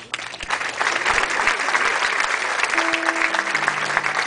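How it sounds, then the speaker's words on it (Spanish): Loud applause from a concert audience honoring a guest guitarist, building quickly into steady dense clapping with faint sustained instrument tones beneath near the end. "para quien pido un fuerte aplauso"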